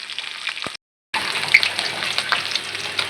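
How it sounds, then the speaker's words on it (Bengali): Fish frying in a pan, a close, steady crackling sizzle briefly broken by a moment of silence before resuming. "মাছটি সুন্দর করে ভাজা হয়ে গেছে,"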